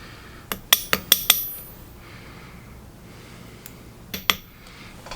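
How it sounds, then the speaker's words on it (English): Wubbers metalsmithing hammers tap a hand-forged metal ring to clean up tool marks, giving a quick cluster of four or five sharp, ringing metallic strikes, then a pause and two more taps, close and fairly crisp over quiet room noise. "I'm just going to go through and clean up some of those tool marks. In case you're wondering, these are Wubbers hammers."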